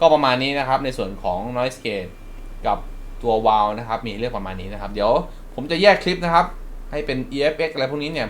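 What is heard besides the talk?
No distinct noise like a dog, phone or traffic.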